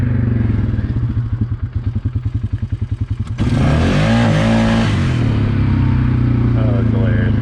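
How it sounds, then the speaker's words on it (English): A motorcycle engine runs in a rapid, pulsing stutter that sounds like it is bouncing off the rev limiter, then breaks into a louder, sustained roar with shifting pitch, close and loud, with a voice over parts of it. "What if I'm bouncing off the rev limiter?"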